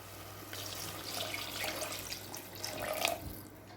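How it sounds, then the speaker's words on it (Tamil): Water pours into a pot of tomato rice in a pressure cooker, a soft, steady splashing stream heard faintly and alone. "இப்போ அடுத்தது தண்ணி சேர்த்துக்கலாம்."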